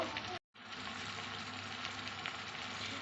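Spice paste for a Bengali fish curry, made with sour yogurt, turmeric and hot chili powder, sizzles and fries steadily in a pan, loud and continuous after a brief break near the start.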